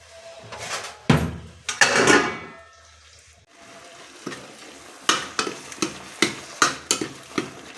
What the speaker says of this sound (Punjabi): ਚਲ ਤੜਕਾ ਲੱਗ ਗਿਆ